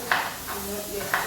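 Tomatoes are tipped into a frying pan and stirred in a home kitchen, giving a couple of soft scraping clatters over a steady background sizzle while a person talks.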